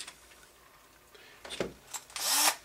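Screws are driven into a Turtle Racing rear transmission plate with a power tool, giving quiet handling clicks and then a short, close whirring burst near the end.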